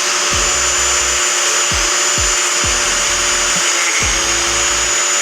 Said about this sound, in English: I'm just gonna cut it off right here with my grinder